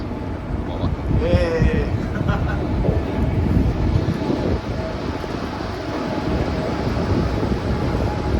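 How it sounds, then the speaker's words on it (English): Korea's newest high-speed train runs with a steady low rumble and broadband rush, a brief whine rising near the start, while a voice talks over the travel noise. "Taking Korea's newest high-speed train."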